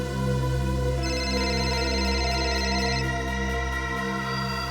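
A telephone rings with a repeating electronic tone that stays steady over a sustained background music bed, with no talk.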